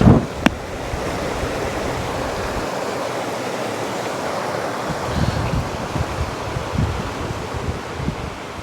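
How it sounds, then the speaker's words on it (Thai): A stream in the village of Ban Mae Kampong flows in a constant, even rush of water, close by and moderately loud, with no voices. "เป็นว่าห้วย ได้ยินเสียงน้ำ"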